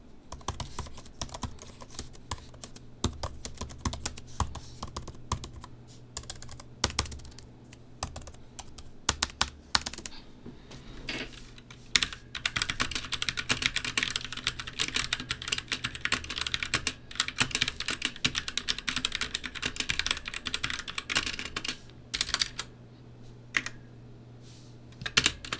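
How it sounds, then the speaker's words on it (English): Steady typing alternating between a mechanical keyboard and a 2020 16-inch MacBook Pro keyboard, continuous key clatter throughout, with some stretches sounding crisper and clickier than others; no talking. "I'm gonna let you guys hear the difference between my mechanical keyboard and my MacBook Pro keyboards"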